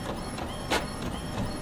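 A printer in The Mortuary Assistant horror game runs steadily, feeding and printing with a soft mechanical whir and a brief louder pass midway, heard alone at moderate volume.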